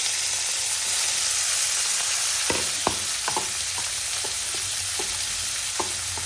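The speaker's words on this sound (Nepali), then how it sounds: "अब भने चाहिँ यो सुकुटी फ्राई गर्छु।" Dried fish (sukuti) fries in a pan for chutney with a constant loud sizzle, broken by occasional scrapes and clinks of a utensil stirring it.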